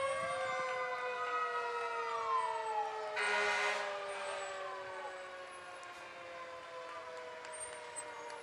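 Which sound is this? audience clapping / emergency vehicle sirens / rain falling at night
emergency vehicle sirens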